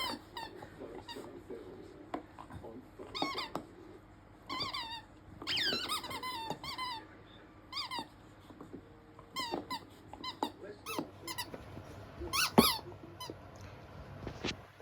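A dog squeaks a toy ball over and over at midnight, making close, irregular bursts of sharp squeaks with short pauses between them.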